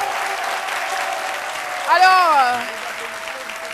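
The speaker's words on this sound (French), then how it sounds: "je vais vous demander d'applaudir très fort Aloucine Sidibé" A TV studio audience applauds a guest, a dense steady wash of clapping that runs throughout, with a short voice speaking over it midway.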